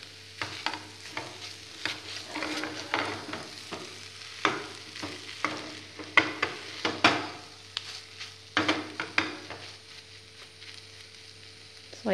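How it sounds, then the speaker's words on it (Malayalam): Chicken roll filling with chilli and tomato sauce stirred in a sizzling pan, a spoon scraping and knocking against the metal at irregular intervals over a steady low frying hiss, close by, with no talk. "എന്നിട്ട് നല്ലപോലെ ഒന്ന് മിക്സ് ചെയ്യാം."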